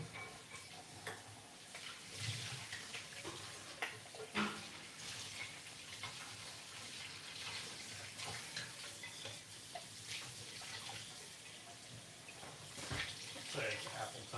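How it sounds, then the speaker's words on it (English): Tap water runs steadily into a sink while plastic containers are rinsed, a continuous close hiss and splash with occasional knocks of plastic, and people talk over it at times. "We're just wasting water."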